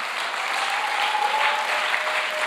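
Sustained applause from a church congregation fills the space evenly, a dense wash of clapping hands holding steady at moderate loudness throughout, with no voices standing out.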